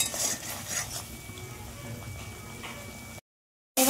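Potatoes and spices being stirred in a pan for a raw-banana kofta curry, with steady scraping and clinking of a utensil against metal over a low sizzle, close and moderately loud, cutting to silence near the end.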